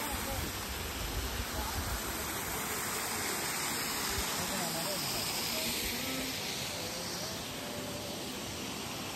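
A waterfall flows at Shokhuvi Village near Chumukedi, with a steady, broadband rushing roar that continues unbroken throughout and is heard close up.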